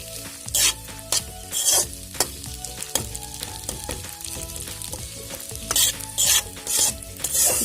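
A spiced noodle mixture made with Maggi-style noodles is stirred and fried in a pan. Loud spatula scrapes come in bursts over a constant crackling sizzle, with no talking.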